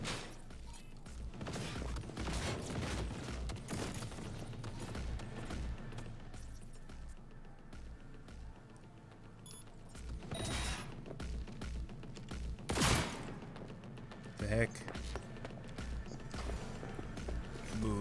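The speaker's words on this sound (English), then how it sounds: "Oh, it's a turret." Rapid turret fire in the video game Cyberpunk 2077, a dense, sustained rattle of shots with scattered louder impacts, quiet and lasting through most of the stretch.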